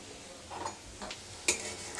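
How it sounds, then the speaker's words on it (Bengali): Vada fritters sizzle faintly in hot oil, with a few soft stirring scrapes and one brief sharp clink of a utensil against the pan. "বড়া ভাজা তো"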